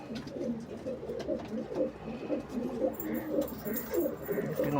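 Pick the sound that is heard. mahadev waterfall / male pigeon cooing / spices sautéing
male pigeon cooing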